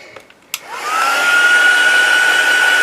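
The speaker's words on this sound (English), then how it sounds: "I'm just going to pop on my heat gun and just dry off that white ink" Heat gun drying white ink on mixed-media journaling cards: a couple of clicks as it switches on, then a steady loud blowing whine with a rising tone that settles into a constant pitch.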